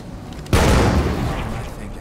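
A bomb explosion in the zombie survival game State of Decay 2 goes off as one sudden heavy boom, followed by a rumbling decay that fades over about a second and a half.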